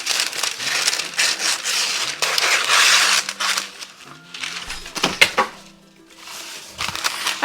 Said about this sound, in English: let's cut this parchment to size